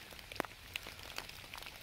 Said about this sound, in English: it's finally raining during the daytime, which is fantastic